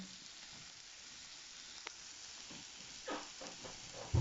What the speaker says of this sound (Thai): ดูเสียง ซ่าแล้ว